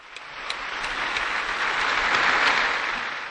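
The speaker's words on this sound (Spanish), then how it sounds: "Un aplauso a los nuevos beatos" Applause for newly beatified people at a Catholic ceremony, a dense, steady crowd clapping that swells slightly and continues throughout, with no talking.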